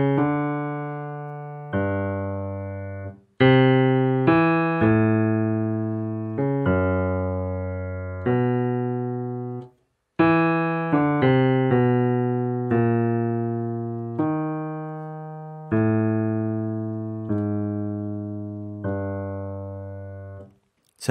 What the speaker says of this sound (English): And here's the bass line alone.